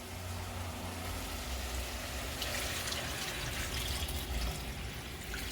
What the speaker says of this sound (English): put your water right over your meat